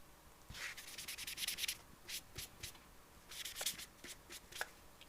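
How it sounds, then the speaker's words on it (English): A Magic Eraser scrubs a vintage American Girl doll limb, a soft, close rubbing and scratching in quick uneven strokes, with a few light taps, quiet throughout. "So I'm gonna go ahead and come in for a little touch-up scrub"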